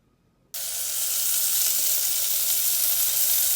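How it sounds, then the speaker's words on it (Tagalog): Onion, tomato and garlic hit a hot pan for a vegetable sauté, bursting after a half-second of quiet into a loud, steady, close sizzle that holds evenly to the end, no voices. "Yan, ginisa ko na. Yung sibuyas, kamatis, bawang."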